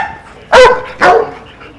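A sheriff's K-9 search and rescue dog gives two sharp, loud barks about half a second apart, close by, with quiet between and after.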